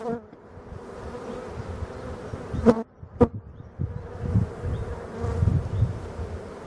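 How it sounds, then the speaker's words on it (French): Honeybees buzz at an opened beehive during a beekeeping inspection, a continuous close drone with individual bees swelling past the ear and a couple of sharp knocks partway through. "Donc il y a des abeilles dessus"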